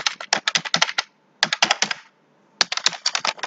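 Quick bursts of typing on a computer keyboard while entering IP configuration, three clusters of crisp keystrokes separated by short pauses, close and clear with no talk.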